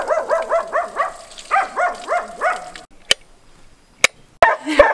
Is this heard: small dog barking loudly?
yes